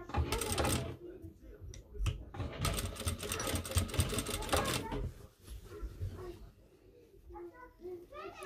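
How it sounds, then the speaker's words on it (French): A sewing machine stitching along the edge of a closed neckline while a zip is fitted: bursts of rapid mechanical whirring and needle clatter that stop and restart, close by, with a voice talking briefly in between. "On va coudre au bord."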